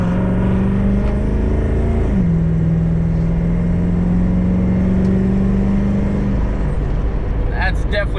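A tuned Duramax diesel dually truck pulls hard from 40 mph with a loud, continuous engine drone that drops in pitch at a gear shift and then climbs steadily.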